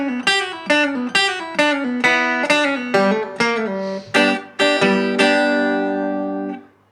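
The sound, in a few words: electric guitar playing a rockabilly solo approximation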